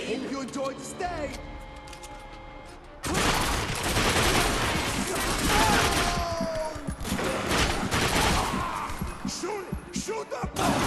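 Gunfire in The Darkness 2 video game: after a quieter start with game voices, loud sustained bursts of shooting and impacts erupt and continue to the end, mixed with shouted dialogue.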